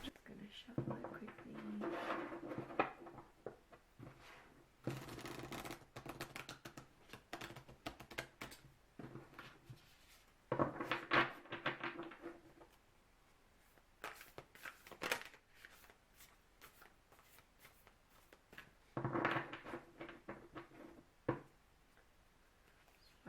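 Tarot card deck being shuffled in quick bursts, with riffling and soft card slaps coming in several separate runs, fairly close, while birds coo faintly in the background and a person speaks.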